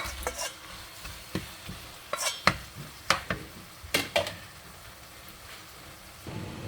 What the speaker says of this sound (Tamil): இறால் மஞ்சள் தூள் உப்பு போட்டு பிரட்டி வச்சுருக்கிறேன். அதையும் போட்டு கொட்டி கிளறுறேன்.